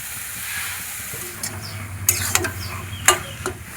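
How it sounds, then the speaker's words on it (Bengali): Taro leaves tossed with spices in a pan give a soft sizzling hiss, then a run of scraping strokes and sharp utensil clanks against the metal, close and fairly loud. "ভালো করে মশলার সঙ্গে কচুর শাক মিশিয়ে নেব।"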